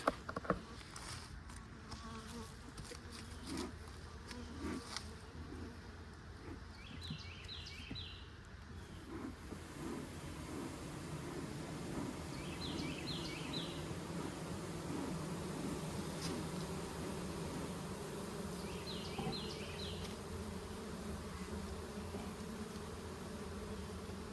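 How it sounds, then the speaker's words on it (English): Honeybees buzzing at the top of an open beehive during an inspection, a faint, steady hum that continues throughout, with a few soft close bee passes and light handling noises early on. "Already a lot of good activity right to the top of the Blue Hive."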